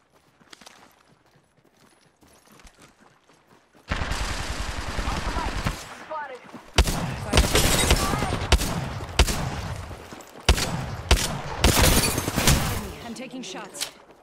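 Heavy automatic gunfire from Apex Legends erupts after a quiet opening, loud close bursts of rapid shots with brief pauses between volleys and clattering effects.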